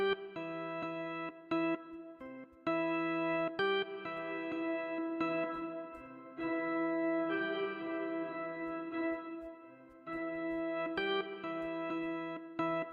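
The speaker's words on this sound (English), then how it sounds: "But let's add reverb." Quiet electronic music made in FL Studio plays with an added roomy reverb, each note ringing out and blurring into the next.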